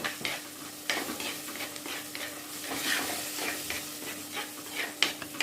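A spoon scrapes and stirs through a thick mint pickle mixture with vinegar in a pan on a low flame, repeated strokes over a soft, steady sizzle.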